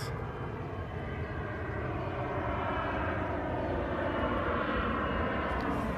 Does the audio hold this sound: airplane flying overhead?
yes